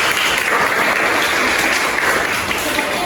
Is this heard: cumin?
no